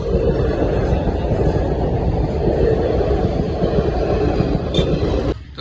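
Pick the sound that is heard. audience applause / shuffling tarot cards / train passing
train passing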